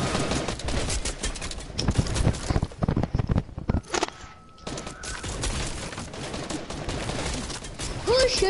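Rapid bursts of video game gunfire crackle through a chaotic multiplayer match, dense volleys and single shots overlapping while players shout and talk over the shooting.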